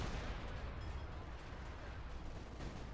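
Artillery barrage in the strategy game Company of Heroes 2, heard as a steady, dense rumble of distant shelling and gunfire that holds for a few seconds without pause.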